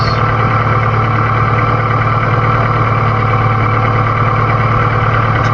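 An Acura Integra's engine idling after an idle fault was fixed, a loud, close, smooth steady hum with a low even drone and no break or change throughout.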